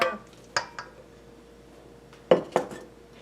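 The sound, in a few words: mixing frittata ingredients in a bowl, utensils clinking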